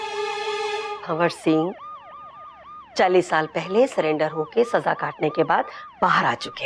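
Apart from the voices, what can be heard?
siren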